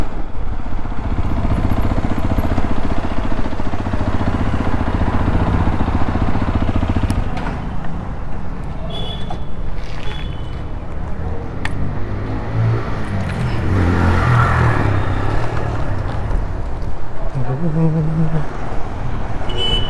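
Motorcycles and cars pass through busy Bangalore traffic near a service centre, with engines idling and revving close by, a horn or two, and people talking under the steady rumble.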